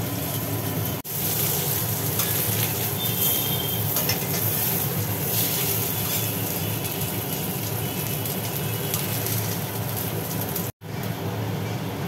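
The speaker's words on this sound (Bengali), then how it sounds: "এবার আলুগুলো ভাজা হোক," Potatoes frying in mustard oil in a kadai, a continuous close sizzle with rain-like crackle throughout, broken by two brief dropouts, no talking.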